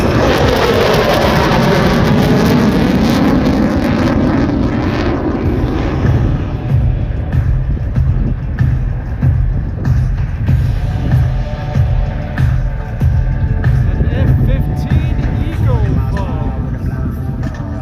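An F-15 fighter jet passing with afterburners lit at an airshow, a loud, broad roar that sweeps past and then settles into a long rumbling fade.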